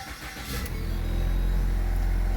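The engine of a 2014 Ford Fusion with worn motor mounts starts and settles into a steady, buzzy idle, heard from inside the cabin as a loud, continuous low rumble with a brief rise at the start.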